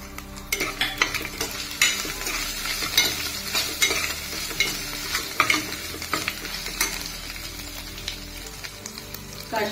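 Whole spices and finely chopped ginger for a vegetable rice dish, sizzling and frying in a pan with steady crackle while a spoon scrapes and clinks against the metal in irregular strokes.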